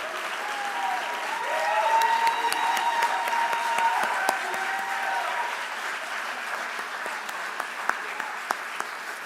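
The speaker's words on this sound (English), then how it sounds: "Let's keep on clapping." A crowd gives sustained applause for the 2022 Dream Award scholars, with a dense, even wash of clapping and faint voices underneath that gradually thins toward a few scattered claps.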